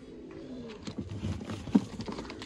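Pigeons at a kabootar bazi loft coo softly and repeatedly, a low rounded burble close by with shuffling and rustling around the birds.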